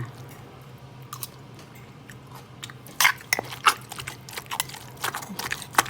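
Close, wet chewing and biting of green tomato soup, with irregular crunchy and squishy mouth sounds clustered in short bursts over a low steady hum.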